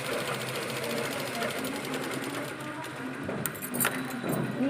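Sewing machine stitching along a garment neckline, running in a fast, steady mechanical whir with rapid needle clatter throughout, close and alone.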